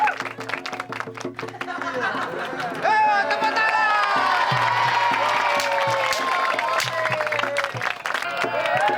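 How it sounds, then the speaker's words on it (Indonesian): A crowd applauds a kuda lumping trance-dance act, dense clapping swelling and holding with scattered cheers and chatter, close and loud, while a voice talks over it. "Tepuk tangan."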